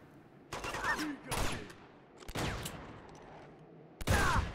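Shotgun blasts ring out in the video game Uncharted 2 during a monastery shootout, four loud booming shots spaced about a second apart, each with a sharp crack and a decaying tail, with no talking over them.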